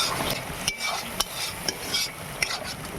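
Spice paste being sautéed in a pan, with steady sizzling under repeated stirring scrapes and light clicks of a spoon against the pan.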